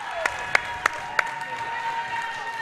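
Crowd applause and cheering in a high school basketball playoff gym, with a few sharp claps or shoe squeaks over a steady murmur of the crowd.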